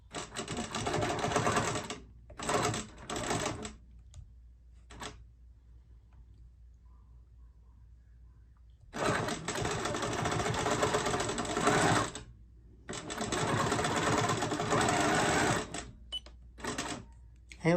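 A sewing machine on a Cutie quilting frame free-motion quilts minky in loud, close, rapid stitching bursts of several seconds each, separated by pauses.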